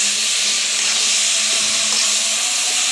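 Boiled greens hit hot oil for a tempering and sizzle in a bright, steady hiss, close and fairly loud, with faint low tones underneath.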